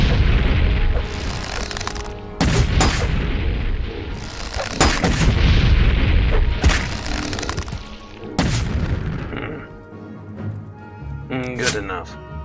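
Fire spell blasts in the video game Morrowind, a series of booming bursts and crackling whooshes in close succession, mixed with game sounds and occasional talk.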